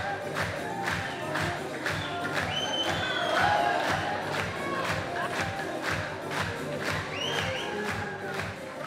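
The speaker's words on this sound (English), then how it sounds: "takes the stage to a wave of applause" A live Afghan Superstar television show audience greets the host singer taking the stage with a roaring crowd, cheers, whoops and scattered clapping, loud and sustained with shouted voices rising above.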